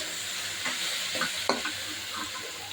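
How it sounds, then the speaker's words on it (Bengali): Hilsa fish fries in a pan with a constant soft sizzling hiss, marked by a few brief utensil taps and one sharper clink near the middle, close and fairly quiet, no talking. "এই যে এই পাশে ইলিশ মাছ ভাজতে দিয়ে দিয়েছি।"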